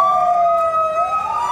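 A fire engine siren wails loud and close, a steady rising-and-falling tone as the truck arrives at a burning scooter repair shop in Kaohsiung.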